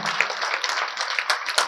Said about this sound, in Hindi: एक बार उसके लिए भी जोरदार तालियां बजाएं।